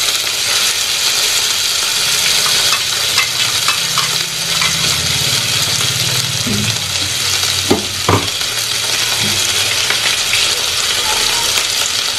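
Onions sizzle and fry in a pan with a steady, loud hiss, broken by a few clinks and scrapes of stirring near the middle, with no talk.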